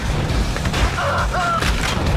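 Bursts of gunfire in Command & Conquer: Red Alert 2 thump through a dense, busy mix, with brief electronic tones sliding over the top.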